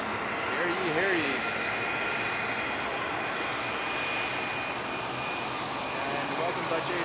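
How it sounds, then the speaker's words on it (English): A steady, continuous roar of a jet airplane engine taxiing in from de-icing at a distance at Frankfurt Airport on a frosty night, broad and even throughout, with faint voices underneath. "And there we have another plane coming in from de-ice."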